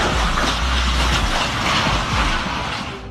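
A train passing close by with a heavy, continuous rumble and rail rattle, tied to a collision with a car at a level crossing; the roar stays loud throughout, with no distinct single impact standing out.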